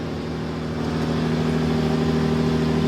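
2003 Suzuki Grand Vitara engine after a MAF sensor replacement with the check engine light on, running with a steady mid-pitched hum close by that grows slightly louder as it speeds up a little.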